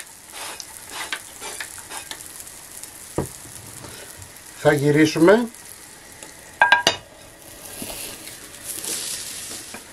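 Cheese frying in a pan with a steady low sizzle throughout, broken by a few louder clattering bursts as pieces are turned; a voice speaks briefly.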